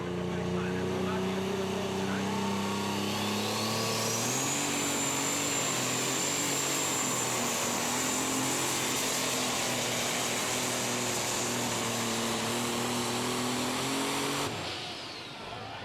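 An unlimited super stock pulling tractor named Out of Time roars at full power during a pull at Saluda, South Carolina, its engine a loud, sustained, droning howl with a rising whine, dropping away at the end.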